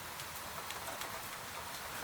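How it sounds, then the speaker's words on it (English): Gentle, even rain on a roof on a quiet night in old Edo, a soft continuous hiss with faint scattered drips, calm and unbroken throughout. "Rain slides down the roof."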